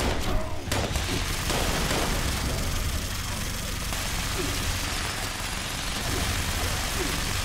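A plasma grenade blast and heavy gunfire in Fallout 76 form a dense, unbroken roar of shots and rumbling explosions that stays loud for the whole stretch, with a voice faintly present.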